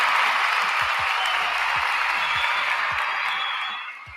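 Canned crowd applause plays at full loudness as a podcast sound effect, a dense wash of clapping that holds steady and then fades out near the end.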